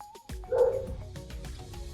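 Small dogs bark and yip indoors in a few short bursts, with a whimpering note mixed in, fairly close but not loud.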